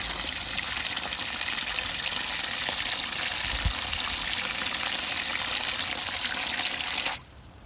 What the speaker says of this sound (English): Now I'm going to fill it with a lot of water.